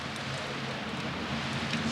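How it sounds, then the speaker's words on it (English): A big early-morning rainstorm with thunder and some wind, heard as a dense, steady hiss of heavy rain with a low rumbling underneath, continuous and fairly loud. "we're having a big rainstorm, and you can hear it thundering, a little wind blowing."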